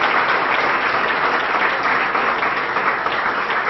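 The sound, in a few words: audience applause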